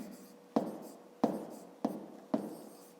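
A pen or pencil writes numbers by hand during a fifth-grade math exercise, four sharp strokes tapping down at an even pace, each trailing into a brief scratch; close and quiet, with no talk.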